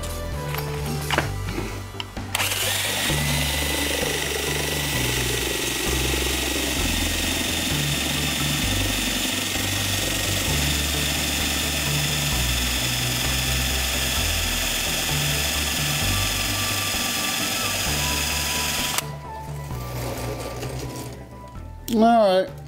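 An old Dayton 6Z117 2-inch belt grinder dresses a pulley, starting abruptly and running in a loud steady whir for about sixteen seconds before shutting off, with someone talking briefly before and after.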